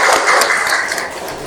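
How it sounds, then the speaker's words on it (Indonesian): Students in a classroom clap together in a dense, loud burst that carries on steadily for a moment and then starts to thin out slightly, with no talking over it. "Berikan tepuk tangan dulu."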